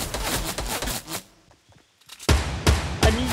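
Many players shoot in the video game Fortnite: dense bursts of rapid gunfire break off for a short lull, then return loud and close.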